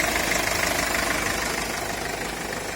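A Mercedes-Benz Sprinter van's turbo engine, cold and just started, idles steadily with a rough, knocking rumble, close by and continuous with no talking.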